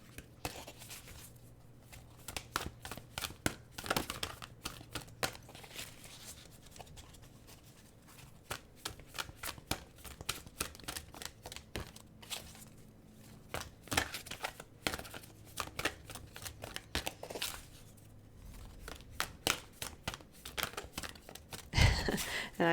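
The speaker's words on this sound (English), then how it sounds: "These cards are really kind of big for me to shuffle." Large, stiff oracle cards are shuffled by hand in repeated bursts of rapid flapping and riffling, close by, with brief pauses between rounds.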